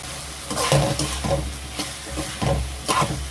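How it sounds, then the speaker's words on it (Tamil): Lamb lung curry being stirred in a pot right after salt goes in, with drumstick and potato pieces; repeated scraping strokes roughly every half second, close and fairly loud over a steady low sizzle, no talking. "உப்பு சேர்த்து கலரி விடுங்க"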